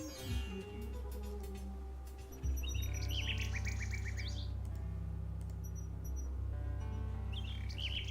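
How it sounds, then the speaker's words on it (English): Nightingale song in the King's Quest VI video game, bright chirping trills in short bursts over a steady low musical backdrop, moderately loud. "A nightingale perches on a high branch of the tree. She sings the most beautiful song Alexander has ever heard."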